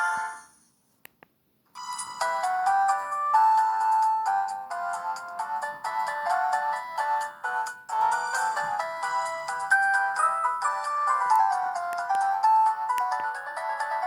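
After a brief silent start, a Samsung GT-E1272 ringtone plays on a Newmind F15 flip phone, a loud, continuous chiming electronic tune with no voices.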